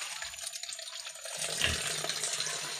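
Water runs steadily from a tap at an outdoor washing spot on a rural farm, a continuous splashing hiss that grows slightly fuller partway through, with no voices.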